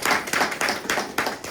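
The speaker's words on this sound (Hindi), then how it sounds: "ताली" An audience at a Hindi DXN business opportunity meeting breaks into brisk, rhythmic clapping. The applause is close and fairly loud, with hand claps landing in quick succession over a short burst.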